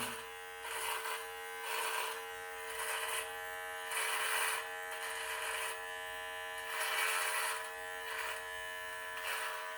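A close electric trimmer buzzes continuously, its tone swelling and easing in a repeating rhythm as it cuts beard hair along the neckline.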